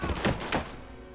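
A kick lands in Blood Stone 007, a couple of dull, heavy thunks in quick succession, close and muffled, fading into quiet game ambience.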